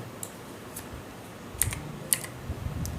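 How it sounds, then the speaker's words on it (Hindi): Numbers typed on a computer keyboard while setting up Windows on a new PC: a few crisp, close key clicks, sparse and irregular at first and then clustered, over a quiet room hum. "तो यहाँ पे जो हम टाइप करेंगे"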